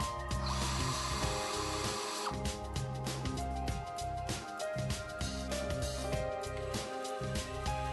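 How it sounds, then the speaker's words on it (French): A power drill and driver run in short bursts with ratcheting whirs as stainless steel screws go into an aluminium decking profile, close up and with no speech. "installez le profilé F avec des vis en acier inox sur chaque lambourde"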